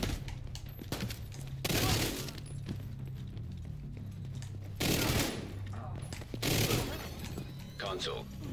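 Rapid automatic gunfire in The Division 2 during a Conflict PvP match, dense sustained bursts with louder volleys cutting in, close and continuous.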